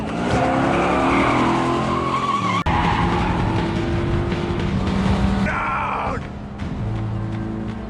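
A car chase from an action film after a bank robbery: engines rev and tires squeal and skid in long screeching bursts, loud and close, layered with roaring motors throughout.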